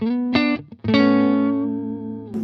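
Clean electric guitar played through an Orange amp with a Tone King Imperial preamp, no effects: a struck chord rings briefly, a short pause, then a second chord sustains and slowly decays before a final pick attack.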